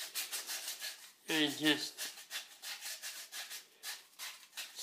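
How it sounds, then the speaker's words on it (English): Sandpaper rubs around a copper pipe in quick rhythmic strokes, a close scratchy back-and-forth, briefly interrupted by a short spoken phrase. "wrap the sandpaper around the pipe with your fingers"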